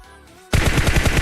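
A rapid burst of automatic gunfire in the mobile battle royale game PUBG Mobile, loud and close, cutting in abruptly after a brief quiet lead-in.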